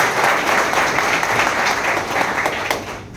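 A large audience claps loudly and steadily, a dense continuous round of applause at a public gathering that holds throughout and tapers slightly at the end.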